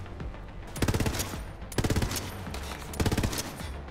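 Gun firing in Borderlands 3, three short rapid-fire bursts of close, punchy automatic shots, each volley about half a second long, separated by brief pauses over a low background hum.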